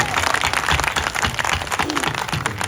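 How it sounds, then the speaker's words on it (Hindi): Audience at a Gayatri yajna ritual applauding loudly, dense continuous hand clapping close by throughout with some voices mixed in. "ताली बजाइए आप इनके लिए जोर से।"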